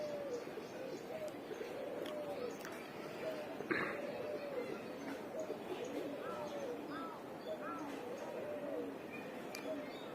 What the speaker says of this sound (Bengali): টোটাল এখানে আমার কবুতর আছে 56টা